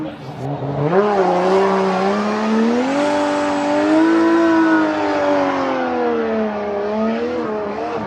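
A Toyota Supra drift car screams through a run at a Formula Drift qualifying event in Orlando, its engine wailing at high revs and wavering with throttle, tires squealing throughout, loud and close.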